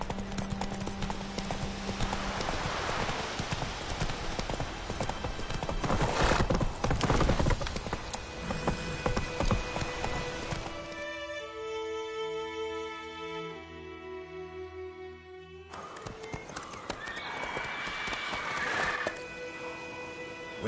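A horse gallops in The Witcher 3 with rapid, continuous clip-clop hoofbeats, joined midway by a sustained tonal whinny-like sound and game ambience.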